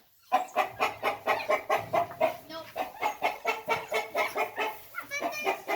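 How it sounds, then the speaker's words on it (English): Chickens and a rooster on a farm cluck loudly and close by, a rapid, steady stream of agitated clucks with no break after a short silent start. "Okay, we need to calm down the chickens."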